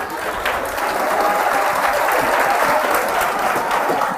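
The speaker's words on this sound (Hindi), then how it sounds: "बहुत अपने लिए ताली बजाइए एक बार" A class of students applauds themselves at their teacher's urging, a dense, steady wash of clapping that holds evenly at full strength for the whole stretch with no talking over it.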